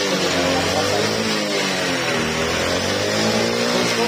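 A Honda Aviator scooter that cuts out after riding some distance runs with its engine revving loudly and continuously close by, a steady droning roar with no speech.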